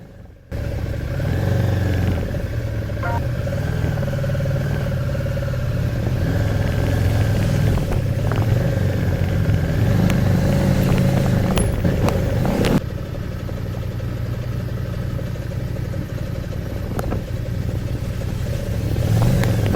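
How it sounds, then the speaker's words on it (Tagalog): Steady traffic of cars and motorcycles on Kenang Road, Benguet, heard from a motorcycle: a continuous loud engine drone with rumble, passing vehicle sounds and occasional clatter, no voices. "May traffic pala dito sa Kenang Road."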